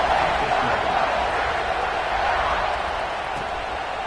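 Football stadium crowd buzzing after a score, a steady, dense roar of many voices with no breaks, heard from a distance.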